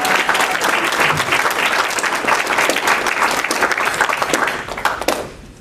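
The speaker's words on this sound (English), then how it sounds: "so give him a round of applause" Wedding reception guests applaud the best man with loud, dense clapping and some crowd noise, holding steady before stopping abruptly near the end.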